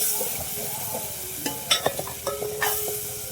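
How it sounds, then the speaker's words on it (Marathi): A spatula stirs and scrapes through sizzling egg curry masala in a pan, with several sharp clacks against the metal over a constant fry. "आता मिक्स करून घेऊ सर्व मसाला"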